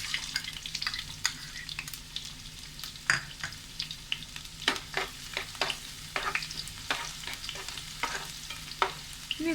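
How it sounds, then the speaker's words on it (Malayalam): Chopped small onions frying in hot oil in a pan for a Kerala prawn and banana flower dish, a steady close sizzle broken by repeated sharp scraping clatters of a spoon stirring. "എണ്ണ ചൂടായി തുടങ്ങിയിട്ടുണ്ട്. ഇനി ഇതിലേക്ക് അരിഞ്ഞ് വെച്ചേക്കണ ചെറിയ ഉള്ളി ചേർത്ത് കൊടുക്കാം."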